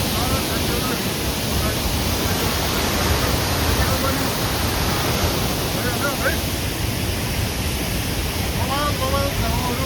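Rupse waterfall in Nepal, a steady loud roar of falling water filling the whole clip with constant broadband rush and faint wind buffeting on the microphone.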